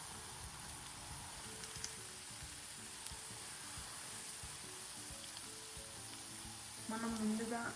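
Onions frying in oil for Telangana bagara rice, a low continuous sizzle heard close with faint crackles, growing slightly busier at the end.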